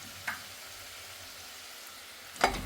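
Onions sauté in a pan for white mutton stew, a faint low sizzle running underneath with two brief scraping stirs, one near the start and a louder one at the end.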